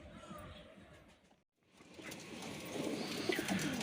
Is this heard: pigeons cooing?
yes